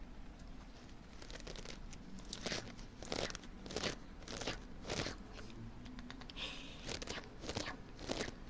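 Close, crisp crunching and crackling made by a person imitating a goat chewing hay, a steady run of irregular bites and rustles alone without talk.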